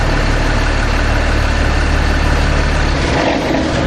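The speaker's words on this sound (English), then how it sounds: "if you want to return the vehicle to idle, you can just flip the run idle switch back to the idle position" Darley fire pump truck engine idling, a loud steady low diesel rumble heard close up and alone, easing slightly near the end.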